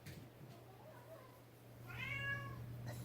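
A hungry male house cat meows indoors in the morning: a couple of soft, short mews followed by one longer, louder drawn-out meow, heard close over a steady low mains hum.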